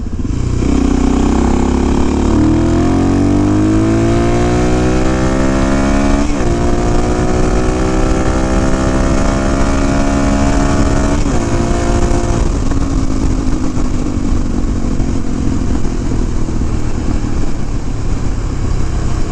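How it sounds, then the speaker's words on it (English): A Suzuki DRZ motorcycle rolls on engine braking with an oil leak, its engine note falling and rising through several gear changes, loud and close with rushing wind throughout. "I'm not braking at all, but that's all engine brake, and that is not normal."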